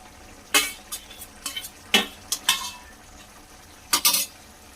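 A spoon scrapes and clanks in a pan of thor ghonto, banana stem cooked with small shrimp, potatoes, ghee and ground garam masala, giving several distinct close stirring scrapes in an irregular rhythm over a quiet background.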